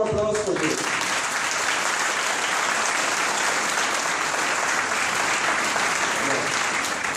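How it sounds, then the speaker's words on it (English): A school graduation crowd gives the graduates a sustained round of applause, a dense wash of many hands clapping at steady loudness from start to finish. "So one more applause for you."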